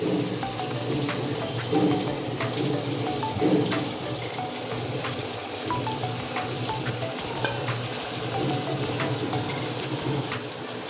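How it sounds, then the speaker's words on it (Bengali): Chicken leg pieces fry hard in a pan with spices for a Bengali-style dish. A loud, steady sizzle runs throughout, with occasional stirring scrapes close by and no talking. "প্রথমে এই লেগ পিসগুলো দিয়ে দিচ্ছি মশলার সঙ্গে এই চিকেনটা কষিয়ে নিব"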